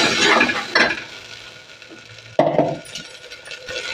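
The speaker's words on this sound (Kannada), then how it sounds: "ಇವಾಗ ರುಬ್ಕೊಂಡ್ಬಂದಿರೋಂಥ ಮಸಾಲೆನ" Ground masala hitting hot oil with crushed garlic and curry leaves in a pan for sambar, giving a close, steady sizzle with stirring scrapes and a sharp burst partway through.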